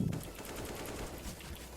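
A quick rattling burst of automatic gunfire in a video game, rapid shots fired in a fast rhythm, fairly quiet and without voices.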